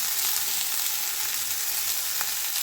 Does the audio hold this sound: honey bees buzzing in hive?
no